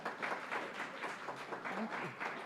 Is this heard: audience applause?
yes